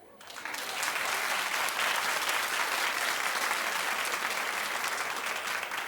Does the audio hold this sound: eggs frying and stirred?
no